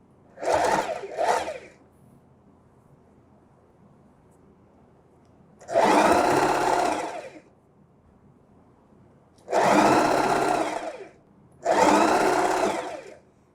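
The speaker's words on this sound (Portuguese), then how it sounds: "iniciei a costura, retrocesso, giro aqui, ó. E vou aplicando a minha fitinha." A sewing machine stitches a fabric trim strip onto a dish towel in four close bursts of rapid whirring, two short ones and then longer runs, separated by quiet pauses.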